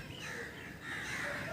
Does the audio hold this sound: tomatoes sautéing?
no